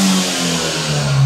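A Peugeot 208 GTI, left three years under a tree, revs loudly up close, a steady mid-pitched engine roar with slight shifts in tone across the burst.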